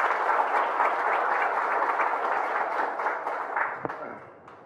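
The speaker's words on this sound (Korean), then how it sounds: "큰 박수 부탁드리겠습니다." An audience at a youth startup talk concert in Incheon claps to welcome a company CEO to the stage: a dense, even patter of many hands that holds steady, then thins and fades out near the end, with no voices.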